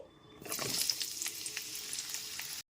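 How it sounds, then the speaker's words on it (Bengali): Pointed gourd pieces go into hot oil and start frying, and a loud, close sizzle bursts up after a brief quiet moment, then holds steady with crackling until it stops abruptly. "ওই একই তেলের মধ্যে এবার পটলের টুকরোগুলো ভেজে নেব"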